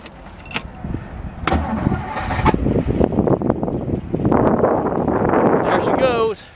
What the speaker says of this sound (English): All right, let's start this guy up.